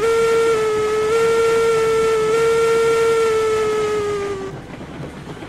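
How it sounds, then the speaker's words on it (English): A steam locomotive in the video game Railroads Online, climbing a grade, sounds one long, loud, steady whistle blast that cuts off and leaves a fainter rumble behind. "My train is coming up the grade."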